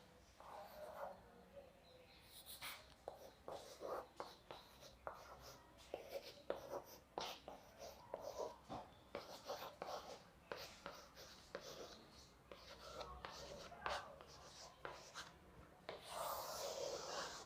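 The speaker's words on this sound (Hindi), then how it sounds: "मैं इसमें एक सवाल लिख रही हूँ" A pen scratches steadily across paper as a maths question on grouped data is written out by hand, with close, irregular strokes and taps and a soft rub toward the end.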